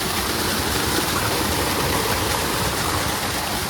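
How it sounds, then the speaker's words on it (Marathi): Water from an irrigation channel rushes steadily in a small cascade, a loud, continuous close-up roar with no pauses or voices. "हे बघा पाणी आलंय पाटाला इकडे हा आपला धबधबा पाटावरचा"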